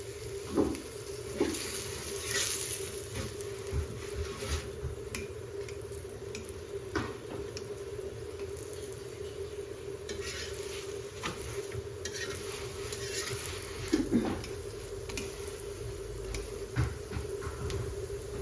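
Chicken paratha frying in a pan over a high stove flame, a steady sizzle throughout with scattered clicks and scraping sounds, close and moderately loud.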